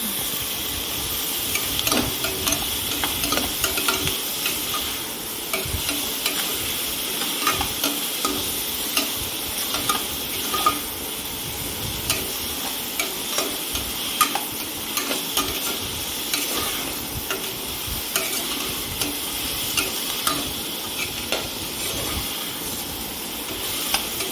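Ginger, garlic and green chilli fry in a pan for mushroom biryani, a steady close sizzle with frequent small ticks and scrapes of stirring running throughout, no voices.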